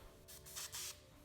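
Short, soft hissing bursts of spray clear coat, from a can, go onto plastic wheel center caps, two or three quick puffs in a row, faint and close.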